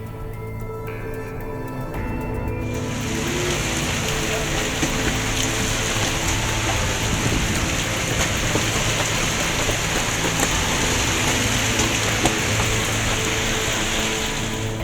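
Heavy rain driven by a strong whirlwind over villages in Rejotangan, Tulungagung, Indonesia, starts after a short quiet lead-in, then becomes a dense, steady roar of downpour and gusting wind that stays loud and unbroken to the end.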